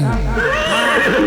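A horse whinnies with a wavering, tremulous neigh, overlapping with speech and low rumbling noise.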